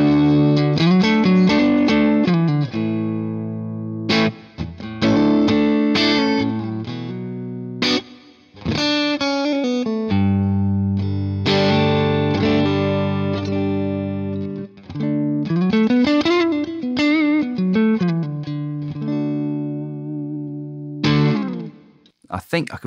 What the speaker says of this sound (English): It's a really nice hall sounding reverb